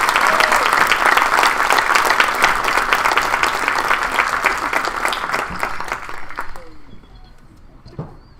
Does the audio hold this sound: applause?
yes